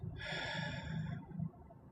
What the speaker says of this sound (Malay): Tarik nafas. Tahan, lepaskan.